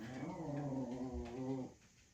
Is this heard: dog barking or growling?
yes